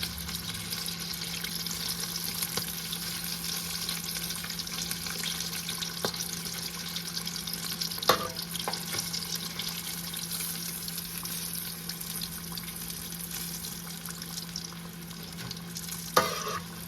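Chicken wings fry in hot oil with a constant, even sizzle and occasional faint pops or clinks, with no voices present.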